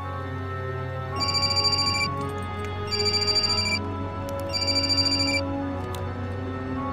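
A telephone rings in a crime drama scene, three separate bursts of bright electronic trilling with short pauses between them over a low, steady background, with no one speaking.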